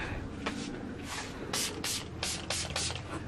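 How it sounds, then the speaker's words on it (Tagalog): Air freshener sprayed around a room in repeated short hissing bursts, about six in quick succession, close and fairly loud, with light shuffling between them. "Mahilig ako mag-spray sa aming room."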